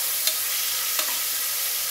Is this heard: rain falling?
no